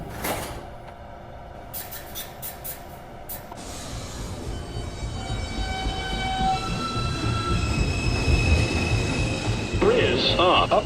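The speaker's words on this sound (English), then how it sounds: "This is a Manhattan-bound 2 train." An NYC subway R142A 2 train runs on the line, with a loud, steady rumble of wheels and motors that builds toward the end, brief high wheel squeals, and a sustained tone near the close.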